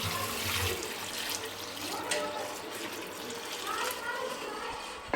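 Hot water pours in a steady, continuous rush, close and fairly loud, with a faint voice underneath.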